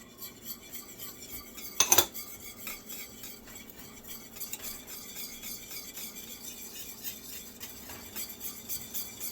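Spoon stirring vanilla and butter into a banana pudding mixture in a pot, with one loud clatter of utensil on metal early on, then steady soft scraping and clinking that stays close and fairly quiet.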